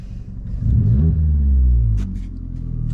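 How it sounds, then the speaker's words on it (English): A Vauxhall Corsa fitted with a throttle controller over-revs from a light tap of the pedal. The engine rumble swells quickly, holds briefly, then drops back to a low idle, loud and close. "It legitimately over revs."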